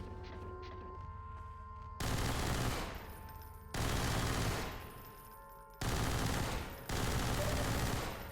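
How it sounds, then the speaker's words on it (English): Half-Life 2 SMG gunfire in loud, sustained full-auto bursts, three long volleys separated by brief pauses, close and dominant with no talk. "Oh, why are you wasting your SMG?"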